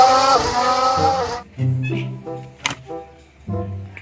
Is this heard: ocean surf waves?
no